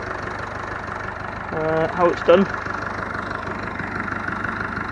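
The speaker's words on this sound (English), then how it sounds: "One of the reasons why I'm using this 165 now and leaving the engine running here" Model 165 tractor engine idling close by with a steady, low, even chug, while someone speaks briefly over it midway.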